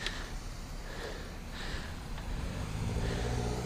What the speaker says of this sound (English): We're gonna let this car go.